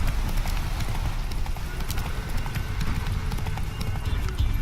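Roach the horse gallops in The Witcher 3, with a fast, steady clip-clop of hooves running throughout, loud and close.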